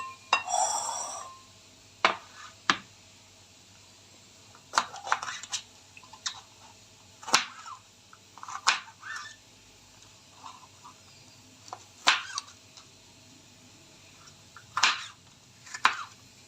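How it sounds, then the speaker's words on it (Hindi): A knife cuts bell peppers (capsicum) for keema with sparse, sharp taps on a board, spaced a second or more apart, faint against a quiet room. "इस तरह मैं दूसरे वाली काट देती हूँ।"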